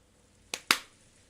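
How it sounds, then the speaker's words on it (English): Two sharp, dry hand claps ring out in quick succession, the second louder, as a sound effect in the Umineko visual novel, set against near silence. "a dry sound suddenly rang out twice"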